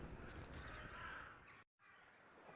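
Crows cawing in the eerie point-and-click horror game The Last Door, harsh calls carrying over a steady ambient drone before a brief dead gap of silence, then the low background resumes.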